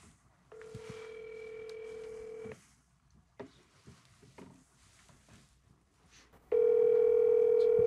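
A phone ringing tone sounds twice: a long steady electronic ring, a pause with faint rustling and light knocks, then a louder second ring.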